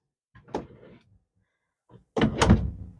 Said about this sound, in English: Door is literally just a piece of plywood with some heavy duty drawer sliders